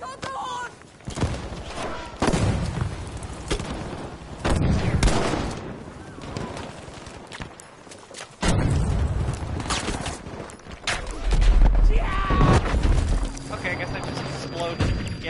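Battlefield V combat with bursts of gunfire and heavy explosions, loud booms and rattling volleys erupting in waves, mixed with shouted talk throughout.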